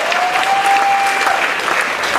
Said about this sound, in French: Applaudissez encore, s'il vous plaît.